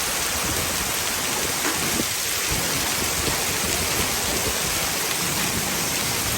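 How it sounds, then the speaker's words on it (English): Dense, steady roar of hail pelting surfaces during a Texas storm, continuous and loud throughout with no voices. "And hail. And lots of hail."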